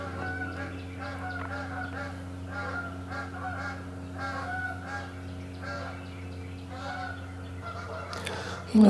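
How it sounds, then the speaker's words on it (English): Geese honking late at night around 2 a.m., repeated nasal honks from several birds at a moderate distance over a steady low background hum, with a brief louder noise at the very end. "We're hearing the geese at like 2 a.m."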